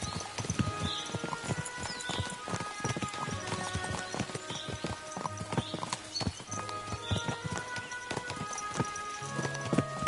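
Horse hooves clip-clopping steadily in a medieval video game set in Bohemia, a close, rhythmic walking gait of repeated sharp knocks continuing throughout with low ambient hum.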